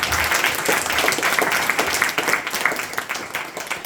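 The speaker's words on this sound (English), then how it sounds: "Please give a round of applause to him." A round of applause rises from an audience at a devotional Bhagavad Gita study gathering, dense clapping from many hands sustained and fairly close before tapering slightly.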